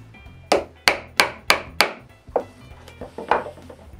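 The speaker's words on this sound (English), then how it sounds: "I square up the corners with chisels." Chisels strike wood repeatedly while squaring the corners of holes cut for a wooden jointer's parallelogram table: five sharp, close knocks in quick succession, then several softer, more scattered taps.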